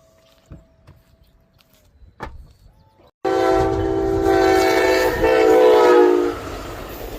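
A loud train horn blares with a sustained, harmonic tone as a train rumbles past, following a few seconds of quiet with faint distant clatter.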